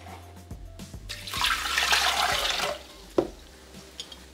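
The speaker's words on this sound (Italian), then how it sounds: "Mettere nel boccale l'acqua" Water pours into the jug of a Bimby/Thermomix kitchen machine, a short splashing gush that swells and fades over about a second and a half, with a sharp knock shortly after.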